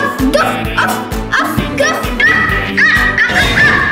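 Cartoonish dog barks and yips from the video game Scary Teacher 3D, several short repeated bursts over game music and sound effects, loud and close throughout.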